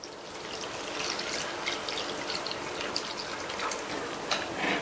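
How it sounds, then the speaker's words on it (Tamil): Strained jaggery solution being poured into roasted gram flour for an instant sweet: a continuous close liquid trickle and splash that holds steady throughout, with no talking. "இப்ப இது கூட நம்ம வடிகட்டி வச்ச வெள்ளக்கரைசல்ல பாதி வெள்ளக்கரைசலை சேர்த்துக்கலாம்"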